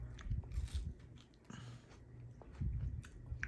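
Crunchy keto pepperoni pizza being bitten and chewed up close, with several loud crunching bites and chewing sounds in an uneven rhythm.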